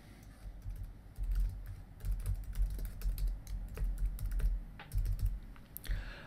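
Someone types a survey description on a computer keyboard, with close, quick bursts of key clicks in irregular runs and short pauses, and no talk.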